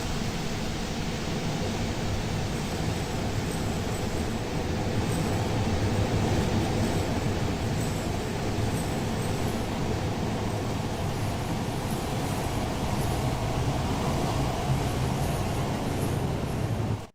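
A passenger train runs through snow on the Bayport Branch, with Amfleet and Comet V cars giving a steady, loud broadband rumble and rail roar that holds evenly throughout with no voices.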